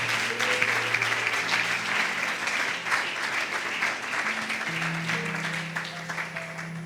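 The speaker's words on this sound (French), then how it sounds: "Je voudrais qu'on acclame bien le Seigneur et qu'on se lève." A church congregation applauds and cheers for the Lord in one steady, dense roar of clapping, with sustained musical tones running underneath.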